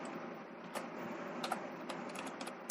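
Keys clicking on a computer keyboard while a C program is typed, a quiet, irregular patter of separate taps spread through the stretch, with a couple of sharper strokes, and no talking.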